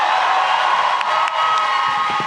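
A live comedy show audience cheering and whooping, a loud continuous crowd roar with no separate claps audible, lasting the whole short clip.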